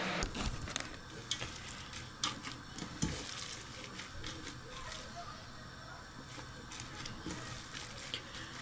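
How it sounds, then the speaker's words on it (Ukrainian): Minced meat being kneaded by hand for cutlets gives a steady, close, moist squelching and slapping texture with scattered sharper smacks throughout and no speech. "Замішую фарш."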